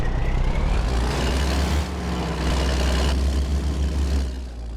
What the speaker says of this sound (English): Start the engine, shift to reverse and begin moving.